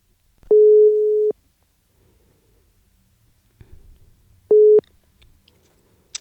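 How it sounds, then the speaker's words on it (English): Two long steady tones of a telephone busy signal as a call is placed during a radio broadcast, the first near 0.5–1.3 s and a shorter one later, with faint low rumble between and no talking. "Und los geht's, anrufen."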